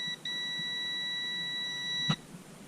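A multimeter beeps steadily during a continuity test on the neutral wire of a fan, a clear, continuous high tone lasting about two seconds after a brief initial blip, ending with a soft click.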